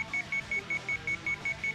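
An alarm going off in the visual novel game Sweet Fuse, a steady run of about nine rapid, evenly spaced high-pitched electronic beeps, loud and clear with no voices over it.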